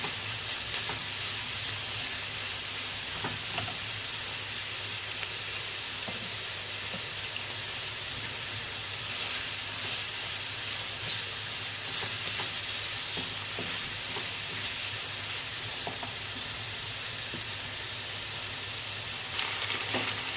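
Minced meat frying with onions in a pan for içli köfte filling, a steady, hissing sizzle that runs unbroken and close, with occasional faint scrapes and no talking.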